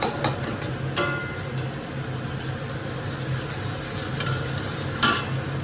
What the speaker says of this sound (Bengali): যে ডিমটা ফ্যাটানো ছিল ওটাকেই স্ক্র্যাম্বেল করে নিচ্ছি।